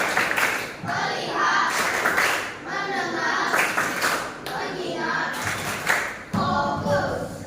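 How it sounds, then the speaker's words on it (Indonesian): A classroom of students clapping hands together in patterned rounds, with bursts of rhythmic claps mixed with children's voices and a teacher talking over them throughout. "Tepuk tangan semuanya"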